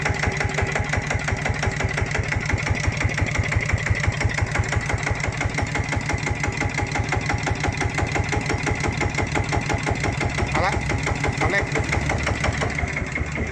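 A Macnum 140 Plus diesel engine idles steadily close by, its rapid rhythmic knocking chugging evenly throughout with a low rumble.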